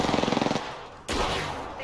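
Apex Legends gunfire: a quick automatic burst of roughly ten close, loud shots, a brief pause, then one heavier blast that rings out.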